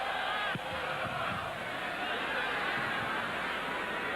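A dense, loud roar fills a football stadium during Chile versus Argentina, the Copa America 1991 crowd chanting and shouting continuously with no break.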